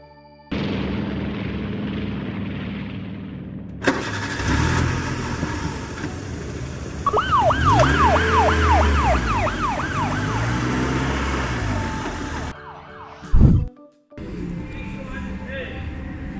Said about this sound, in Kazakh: Жедел жәрдем көлігі.